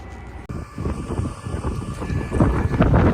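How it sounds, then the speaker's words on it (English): Steady wind rushes and buffets the microphone outdoors beside a harvested soybean field, a continuous broadband roar with no voices. "Let's take a peek outside in the wind."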